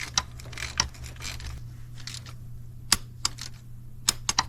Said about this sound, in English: I hope you heard the torque wrench click